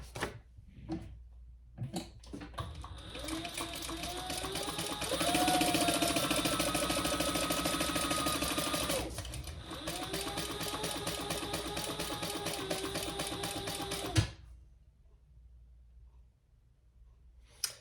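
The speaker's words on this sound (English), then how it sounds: "we're going to stitch these together at the seam allowance in the pattern" A sewing machine stitches pieces of a mini sling bag together at the seam allowance, running in two steady bursts of rapid, even whirring with brief clicks before and after and a quiet stretch at the end.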